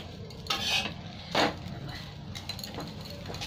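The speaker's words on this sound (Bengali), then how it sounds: "এরকম চেপে চেপে ভালো করে ভেজে নেবো, লাল লাল করে।" Sandwich frying in a pan while being pressed down, a soft sizzle broken by two brief scraping bursts of a utensil against the pan.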